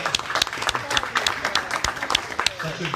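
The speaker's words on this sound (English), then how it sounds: "Let's give a round of applause." Audience applause at an evening Torah study gathering in Houston, a steady wash of many hands clapping at moderate volume, with some talk mixed in.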